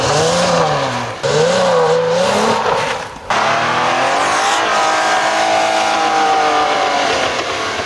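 A Jeep JL Wrangler Rubicon on Cooper STT Pro tires revs hard through snow off-road in low range, second gear, its engine loud and close with a rising, wavering whine that dips briefly before surging again.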